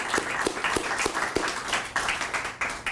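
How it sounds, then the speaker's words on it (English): Applause from an audience at an oratory contest introduction, a scattered run of distinct claps blending into light, fairly faint clapping over a few seconds. "will you all give them all a big hand of applause"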